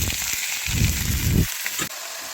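Bottle gourd pieces hit a hot pan of browned fried ingredients, setting off a steady crackling sizzle with louder bursts of frying that dip briefly, all close and without talk.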